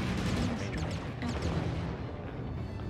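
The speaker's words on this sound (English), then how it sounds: "Airstrike." Airstrike explosions in the MechWarrior Online video game land as a loud rolling barrage of heavy booms and rumbling blasts, dense at first and then fading into a lower, steadier roar.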